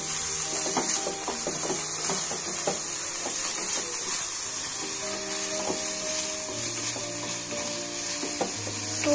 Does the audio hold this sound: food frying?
yes